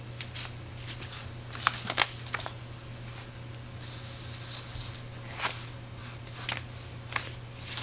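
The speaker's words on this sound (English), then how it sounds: "you're going to want to peel the backing off the decal." Close, quiet crinkling and peeling sounds come in short scratchy bursts over a low steady hum as backing paper is pulled from a decal.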